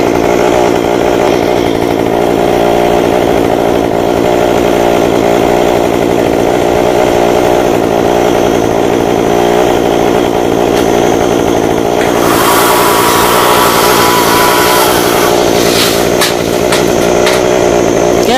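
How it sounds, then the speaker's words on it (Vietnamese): A chainsaw roars loudly and continuously while cutting the top off a 26-metre golden oak (Sao) tree, its whine shifting harsher as the blade bites in, with no voices over it. "xin phép giật cho máy nổ để lắng át tiếng nhạc cũng hơi ồn"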